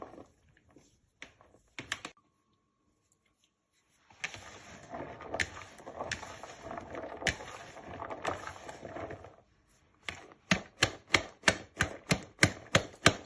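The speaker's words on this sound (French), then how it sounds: "il faut souvent taper pour que les boules puissent bien se former" Millet and wheat flour porridge mix tapped and stirred in a bowl to form lumps, with a dense scraping, shuffling stretch followed by a run of sharp, evenly spaced knocks near the end, close and fairly loud.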